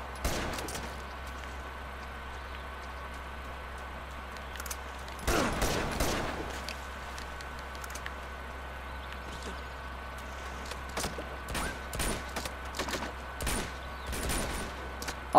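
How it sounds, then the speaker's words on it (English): Scattered bursts of gunfire in Uncharted 2: Among Thieves crack over a quiet humming background, some shots in quick clusters, others isolated, fairly soft and distant. "My gunshots are pretty quiet."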